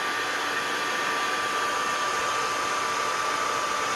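A hair dryer blowing steadily throughout, a continuous loud airy whoosh with a faint motor whine and no other sounds.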